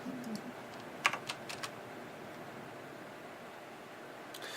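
A few sparse, faint clicks of typing on a computer keyboard, including a key press like Enter, come during a terminal-based server setup, over a quiet room hiss with no talking.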